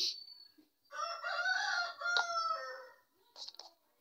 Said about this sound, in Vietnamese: Mấy con gà này gáy ít thôi.